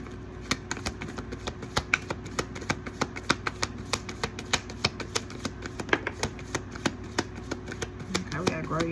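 Tarot cards being shuffled by hand, a rapid series of crisp, evenly spaced flicks and taps up close, with faint talk underneath.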